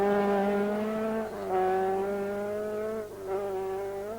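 A 1983 Circuit of Ireland rally car, a supercharged Lancia or Opel Ascona 400 era machine, screams past on a tarmac stage with a steady, high-revving engine note that dips briefly on gear changes, fairly close and clear.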